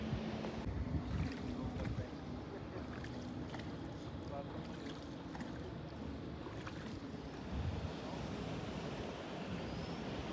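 A boat moves across open water during a camping trip, giving a steady wash of water and wind noise with low engine-like rumble throughout, fairly distant and even in level.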